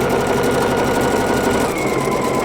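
A Pfaff Creative Icon sewing machine stitches the satin sides of a buttonhole, a steady close mechanical whir with rapid needle chatter running continuously and evenly at moderate loudness, with no voices.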